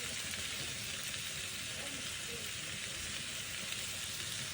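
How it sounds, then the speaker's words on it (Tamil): Onions, green chillies, garlic, ginger and curry leaves sauté in a pan for a coconut salmon curry. A faint, even sizzle runs unbroken with no talking. "வெங்காயம் எல்லாம் நல்லா வதங்கி வரும் வரைக்கும் நல்லா நாங்கள் இதை வதங்க விடுவோம்"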